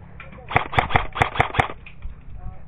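An airsoft gun fires a rapid burst of about seven sharp, loud cracks in quick rhythm during an outdoor team deathmatch, close by, with faint background voices around it.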